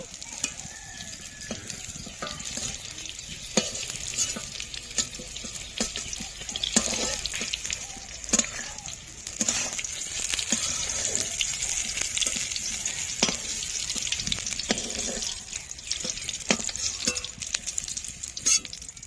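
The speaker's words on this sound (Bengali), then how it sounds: "আর একটু ভেজে নেবো" Paneer pieces for an egg and cauliflower curry fry in a pan, a continuous bright sizzle with frequent scraping stirs and clinks of a spatula, close and fairly loud throughout.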